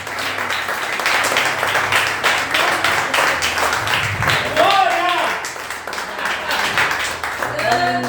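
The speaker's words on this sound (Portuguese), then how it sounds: "Aplauda aquele que é digno, louvado seja Deus." A church congregation at a Sunday family service claps and applauds together, a sustained wash of dense hand claps while a voice speaks over it throughout.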